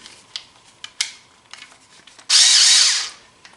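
A small Ryobi drill screwdriver drives a screw while building spline sub roadbed, a close, loud whirring burst of under a second after several light taps and clicks.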